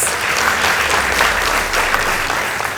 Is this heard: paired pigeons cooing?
no